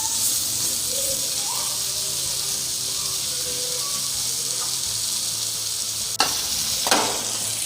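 Tawa chicken sizzling loudly on a hot griddle, a dense continuous hiss with faint tonal squeaks, then two sharp clattering hits as the pieces are flipped near the end.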